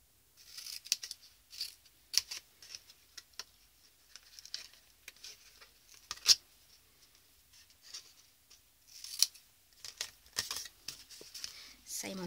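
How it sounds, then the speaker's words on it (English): Scissors cut a score line off card for a mini champagne or wine gift box, a run of quiet, close snips and crisp paper rustles coming in irregular bursts, with short pauses in between. "I'm going to be cutting that score line off."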